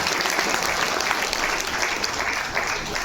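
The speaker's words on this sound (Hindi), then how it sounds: "इस कार्यक्रम के लिए जोरदार तालियां बजाएं" Steady, dense applause from a large audience at a poetry recital in Jodhpur, Rajasthan, loud and continuous for the whole stretch with no pauses.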